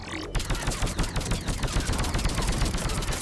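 Dense, continuous gunfire in Mass Effect 3 on Insanity difficulty, rapid overlapping shots with heavy low-end thumps, loud and close throughout.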